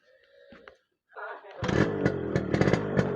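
A Yamaha RX100 two-stroke motorcycle engine revs up loud and close, blipping the throttle several times in a rough, buzzy burst. Brief talk comes just before the engine fires.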